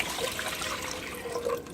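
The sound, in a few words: water poured into a pot on the stove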